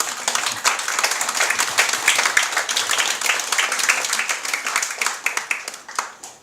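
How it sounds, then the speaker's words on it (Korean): Sustained applause from a lecture audience, dense clapping filling the room steadily before tapering off near the end. "우리 큰 박수로 맞이해 주시길 바랍니다"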